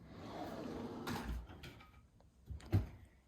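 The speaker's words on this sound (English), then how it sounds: "This is my junk drawer." A kitchen junk drawer is pulled open with a short wooden scrape and a couple of soft knocks, near and fairly quiet, ending in a louder thud.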